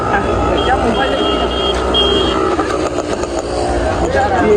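A vehicle's reversing alarm beeps repeatedly over a loud engine rumble, with voices talking close by.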